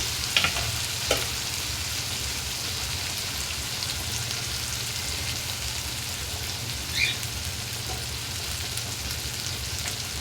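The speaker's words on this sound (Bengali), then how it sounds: "রসুন আর টমেটো পেস্টে যেটা দিয়েছিলাম দেখো ভাজা ভাজা হয়ে গেছে" A steady, fairly quiet sizzle rises from garlic and tomato paste frying in a pan, close by, with a couple of faint clicks of a spoon stirring in spices.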